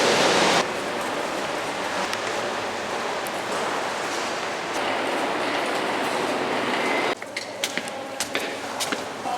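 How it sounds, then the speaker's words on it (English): A metro train in Portugal rides along its rails with a loud, steady rumbling roar, then shifts near the end into sharper rattling clicks as the cars pass over track joints; no voices are heard. "Heading down to the metro now."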